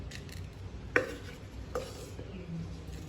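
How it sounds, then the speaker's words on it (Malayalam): Boiled potatoes are mashed in a pot, giving a couple of sharp utensil knocks against the vessel amid soft, quiet squashing and scraping at close range. "ഉരുളക്കിഴങ്ങ് നന്നായിട്ട് ഉടച്ചെടുക്കാം"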